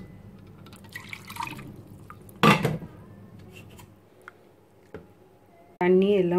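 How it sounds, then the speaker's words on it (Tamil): Water is poured into a mixer jar during rinsing while preparing aapam batter, heard as soft drips and clinks of the jar before a louder, sustained pour at the end. "இதையும் கொஞ்சம் தண்ணி அலசி ஊற்றிடலாம்."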